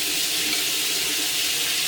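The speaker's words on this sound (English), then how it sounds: "turn on the water and see what happens" Water streams steadily from a bathroom pedestal sink faucet, a loud, even rush that runs without a break and with no voices.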